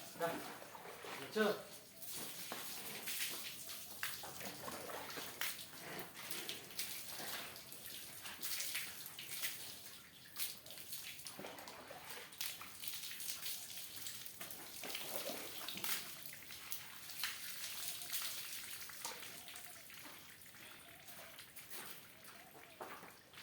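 Water splashing and pouring while buffaloes are washed in hot summer weather, a steady wet wash that continues throughout with people talking over it.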